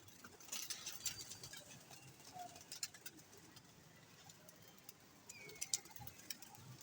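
Pigeons coo softly nearby with scattered chirps and light fluttering, faint against a quiet background.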